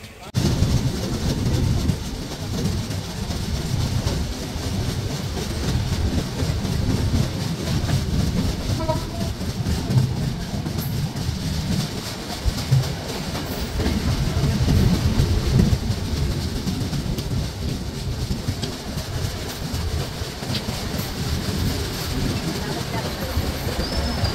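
The Sundarban Express runs on its way across the Padma, with a continuous heavy rumble and rhythmic wheel clatter close by throughout.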